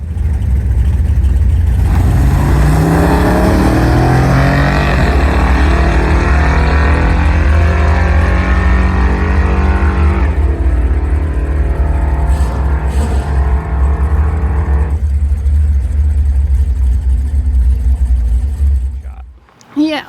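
A drag race car roars down the track at a drag strip, a loud sustained engine drone with rising harmonic sweeps as it accelerates, then a shift in tone midway before the roar cuts off near the end.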